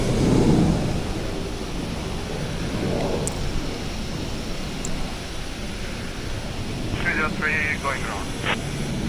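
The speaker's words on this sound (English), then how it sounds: "So here the plane comes in." Pakistan International Airlines airliner coming in to land at Karachi, a loud broad rumbling roar filling the whole stretch, with a brief burst of radio-like chatter near the end.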